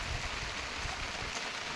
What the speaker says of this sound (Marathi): सात वाजल्यापासून आमच्याकडं पाऊस चालू आहे